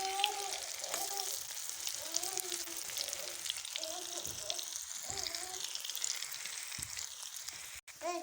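Breakfast frying in a pan on one side gives a soft, steady sizzle that runs the whole time, faint and even, while someone talks over it.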